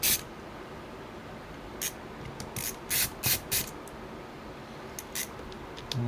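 Small screws are turned out of a laptop battery during a repair, giving a string of short dry ratcheting clicks and squeaks in irregular bursts, close and fairly quiet.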